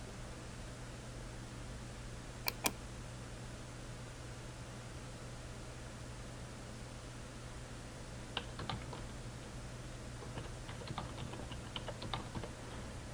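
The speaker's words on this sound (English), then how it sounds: "So there we inserted some text into it." Short bursts of keyboard typing, text being entered into a file, sound faintly over a steady electrical hum and hiss, with a couple of isolated key clicks early and a quicker run of keystrokes near the end.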